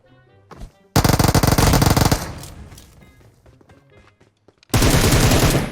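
Automatic gunfire in the video game PUBG Mobile comes in two loud, rapid bursts close up, the first lasting over a second and the second starting near the end, with scattered softer shots between them.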